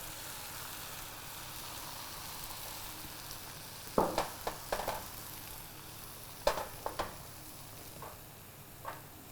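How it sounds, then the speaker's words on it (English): Beaten egg for maple tamagoyaki sizzles in a pan with a soft continuous hiss, broken by several sharp clicks and taps from utensils against the pan in two short clusters. "So I'll add in the next 1/4 of my egg, just right into the pan here, and just tip it"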